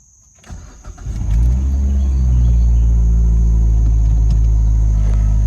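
A five-speed car with about 229,000 miles cranks briefly, then its engine catches and settles into a loud, steady, rattly idle that rumbles close by with no talk.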